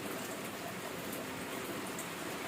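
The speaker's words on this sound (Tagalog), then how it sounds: "Nag-ulan diri." Steady rain falls outside a rural home in the Philippines at dinnertime, a dense, even hiss of drops with no breaks, soft and continuous with nothing else standing out.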